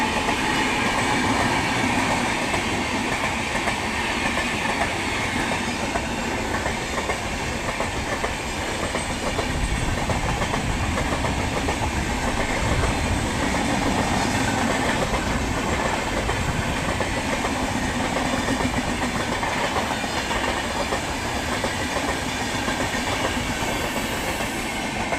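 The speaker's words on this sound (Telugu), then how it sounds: "మన beauty of Andhra Pradesh Godavari express." The Godavari Express passes a crossing at full speed with a loud, sustained roar and rumble, and steady clickety-clack from the wheels runs unbroken for the whole stretch.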